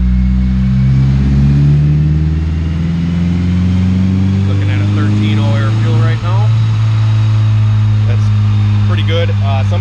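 A Honda CR-V's all-motor B20V engine roars on a dyno in fifth gear, a loud, steady drone that climbs slightly in pitch, with a person talking over it.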